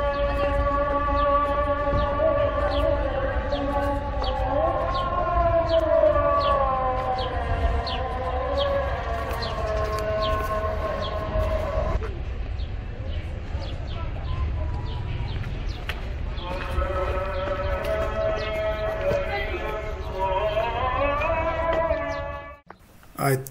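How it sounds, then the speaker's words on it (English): Azan call to prayer for the noon Zuhur prayer in Gaziantep, Türkiye: a long, loud sustained chanted voice with gliding harmonic melody lines, a brief pause midway, then resuming and ending abruptly. "I hear the azan."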